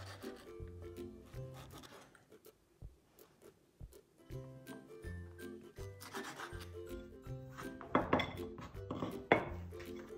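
A knife chopping a whole slab of bacon into small pieces on a board, close repeated knocks and scraping cuts in an uneven rhythm, growing busier toward the end, with no talking.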